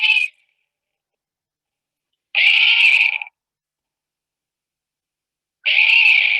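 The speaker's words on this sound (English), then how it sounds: "So that's a very unhappy mouse." An unhappy mouse gives three harsh, buzzy squeals, each lasting about a second and separated by long silences, sounding strained and noisy rather than tonal.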